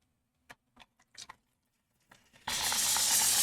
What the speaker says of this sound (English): Spray my palette.